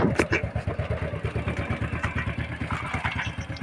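Motorcycle engine, a Suzuki Symphony 100 with an electrical fault, turning over and running with a steady rapid thumping pulse, fairly close, with faint talk in the background.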